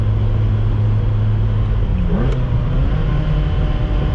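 A Ferrari engine drones loudly and continuously close up while shifting between second and third gear, with a quick shift in pitch midway as revs rise and fall.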